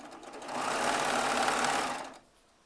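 A Baby Lock Triumph serger stitching quilt strips together runs in one steady burst of about two seconds, whirring and buzzing close by, then stops suddenly and leaves near silence. No voices.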